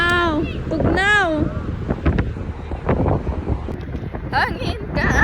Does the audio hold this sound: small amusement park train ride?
no